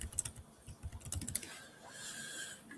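Rapid keystrokes clatter on a computer keyboard in irregular bursts, close and fairly quiet, then trail off into faint room noise.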